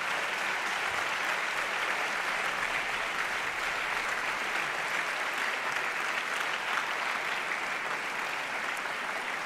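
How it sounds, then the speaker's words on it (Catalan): Sustained audience applause for the organizers at an awards ceremony following a philharmonic band performance, a dense, even roar of clapping that holds at a steady level throughout. "Un fort aplaudiment per a tots els col·laboradors en l'organització d'este certamen."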